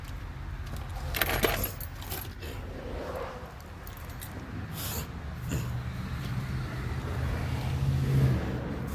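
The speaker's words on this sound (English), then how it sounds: "Keys." A set of car keys jangles and clinks close by, in a few bursts over steady low rumble, in a home garage during a rear brake job on a 2010 GMC Terrain SLE AWD 3.0L.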